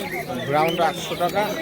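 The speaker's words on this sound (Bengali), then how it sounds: "মুখী পায়রা যারা শখ করেন তারা আপনারা নিতে পারবেন" Soft coos and chatter of Mukhi pigeons blend into a busy din at Birnagar market, with people talking nearby over the birds.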